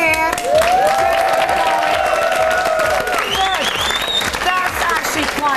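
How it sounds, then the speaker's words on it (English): A television studio audience at a 2002 Eurovision companion show applauds and cheers, steady loud clapping with whoops, while a presenter talks over it. "Everybody, a big cheer."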